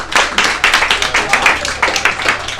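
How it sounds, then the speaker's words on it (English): A small group claps in a quick, uneven burst of applause, close and fairly loud, lasting a couple of seconds. "Give her a round of applause for bringing the book."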